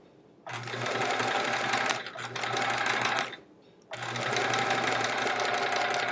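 A sewing machine stitching a quilt block, with two steady whirring runs of fast needle stitching separated by a short pause, close and clear.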